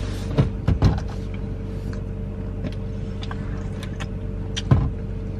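A car engine idles steadily on a cold morning while it warms up, a low continuous hum heard from inside the cabin, with a few brief thumps and clunks near the start and again near the end.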